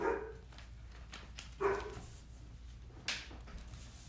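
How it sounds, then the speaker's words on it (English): A dog barks indoors during a live mixed media art session, giving a few separate short barks and yips at moderate distance, spaced out over a few seconds with quiet between them. "Do you guys hear my dog?"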